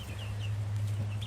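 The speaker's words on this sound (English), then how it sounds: "And then of course we do have our chickens in here" Chickens in a warm farm coop on a cold day, giving a few soft, faint clucks over a steady low hum.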